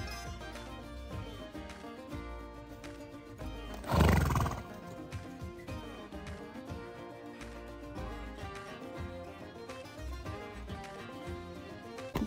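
Horses at a ranch offering horseback rides on Antelope Island, Utah, with a loud whinny near the middle over music and background noise.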